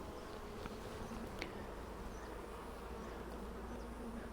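Honeybees buzzing steadily on a brood frame lifted from an open hive, a dense, even drone of many insects close by, with no talking.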